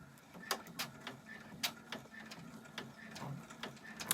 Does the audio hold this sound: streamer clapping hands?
no